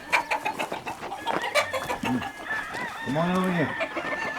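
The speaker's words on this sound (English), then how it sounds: "These are the happiest chickens you ever seen." Chickens and roosters of unusual colours cluck and crow on a rooster farm, with a rising-and-falling crow near the end standing out over steady clucking while someone speaks briefly.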